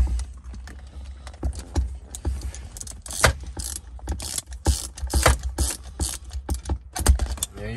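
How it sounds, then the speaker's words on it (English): A wrench ratchets in quick, uneven bursts of clicks while a small jam bolt on a Ford Ranger shifter is worked during a clutch replacement, close and fairly quiet, with no voices. "Tighten and tighten. And keep tightening and keep tightening and keep going."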